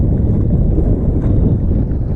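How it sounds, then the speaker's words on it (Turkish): Heavy wind at a pond buffets the microphone in a loud, low, continuous rumble with no voices. "Şu rüzgar biraz az olsa daha rahat avlanacağız."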